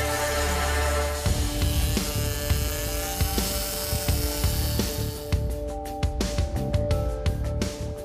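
An electric fishing reel on a trailer boat swordfishing trip winds in line with a steady, loud, high motor whine that holds constant, then begins to stutter in rapid pulses near the end.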